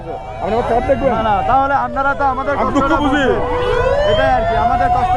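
An ambulance siren wails, rising and falling repeatedly amid loud, busy street noise and people talking nearby, the ambulance stuck in traffic.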